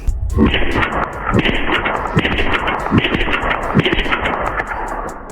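Suppressed rifle shots from a 10.5-inch budget build fitted with a non-flow-through suppressor fire in a quick string of about six sharp muffled cracks, close and loud, each trailing a short outdoor echo.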